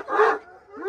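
A young Rottweiler puppy gives two short, close barks, the first louder and fuller, the second a softer yip-like bark after a brief pause.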